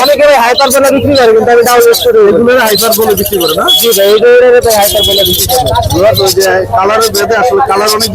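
Baby pineapple green-cheeked conures at a bird market, chirping and calling close by amid loud overlapping human talk and crowd noise.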